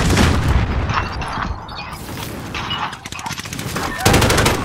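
Rapid gunfire in a Call of Duty Search and Destroy match, loud bursts of automatic shots and booming reports throughout, with a fresh heavy volley near the end and some faint game chatter underneath.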